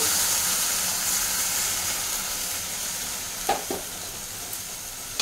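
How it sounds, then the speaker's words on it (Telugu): Full cream milk cooking with poha in a pan over a medium flame for Telugu aatukula payasam, a continuous bright hiss and sizzle with a couple of brief knocks near the end, no talk. "ఇక్కడ నేను పాలు పోస్తున్నాను."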